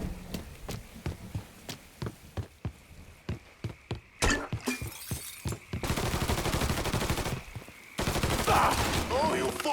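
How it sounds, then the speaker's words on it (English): Shotgun blasts in the video game Mafia III, a rapid series of sharp, loud booming shots, then a dense burst of heavy gunfire and chaotic action noise, with shouting voices mixed in. "It's shotgun time."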